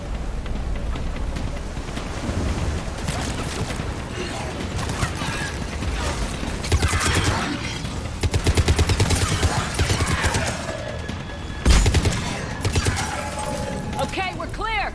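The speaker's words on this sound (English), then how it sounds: "Commander, I've got enemy contact. Under fire." Gunfire in a Mass Effect 3 combat sequence, dense bursts of shots and impacts running the whole time with louder volleys toward the end, mixed with game effects and voices talking.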